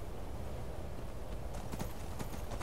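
Horse hooves clip-clop in the video game Skyrim while climbing a mountain path, a quiet steady rhythm that grows more distinct over the last second, set against constant wind-like background noise.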